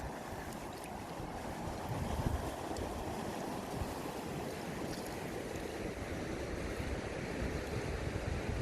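Steady broadband rushing of a waterfall on rural property, a constant roar of falling water with light wind, moderately distant and with no voices.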